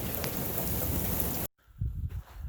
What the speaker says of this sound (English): Oh, it's nothing but rain. Lots of rain